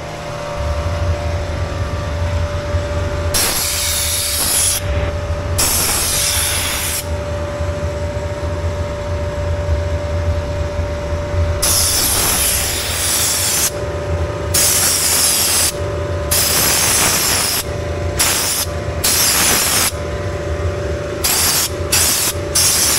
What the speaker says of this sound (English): The wash crew's washing another piece of equipment.